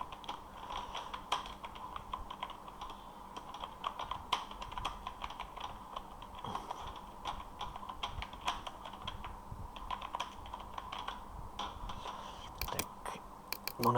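Steady computer keyboard typing runs throughout, a dense stream of soft plastic key clicks at close range with no talking, as text is entered into a Microsoft Word document.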